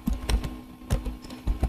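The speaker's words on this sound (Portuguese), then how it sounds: "Digitei aqui gmail.com." Keys clicking on a computer keyboard as an address is typed into a browser, a few quick close taps spread unevenly across a second and a half.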